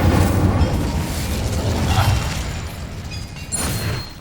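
An Incendio fire spell cast in Hogwarts Legacy roars as a sustained, loud whooshing blaze with a low rumbling body, swelling briefly near the end, with no voices.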